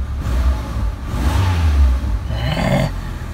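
A car engine starts and revs, a loud low rumble that swells and holds steady for a few seconds with a brief rise near the end and no talking.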